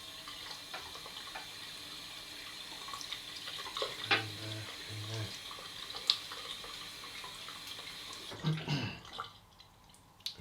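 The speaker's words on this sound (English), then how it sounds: "So I'll just wet my face." Water from a tap runs steadily while splashes and wet slaps come as a face is wetted before a straight razor shave, with a few louder splashes near the end.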